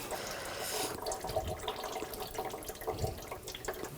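Engine coolant drains from a 2000-2006 BMW X5 3.0L inline-six during thermostat replacement, a steady trickling stream of liquid close by, with no talk over it.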